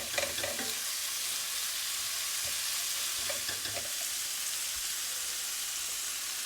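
Vegetables with sun-dried tomatoes and artichoke hearts sizzle steadily in a frying pan, a continuous hiss with occasional soft stirring clicks near the start, close and fairly quiet with no talking.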